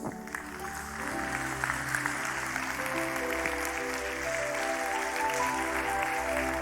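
A church congregation applauds steadily and fairly loudly for several seconds, with sustained organ or keyboard chords ringing underneath and the clapping building slightly toward the end.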